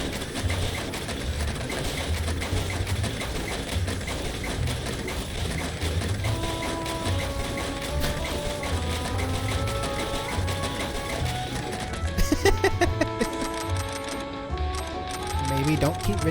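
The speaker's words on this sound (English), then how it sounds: "Is this another vending machine?" Vending machine in the video game Cyberpunk 2077 dispensing, a steady dense mechanical whirring and clattering with tonal beeps, growing busier and louder near the end, over game music.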